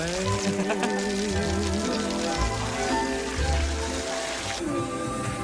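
Artificial rain showers down onto a large concert stage during a lavish pop stage production, a steady hiss of falling water over music and a crowd.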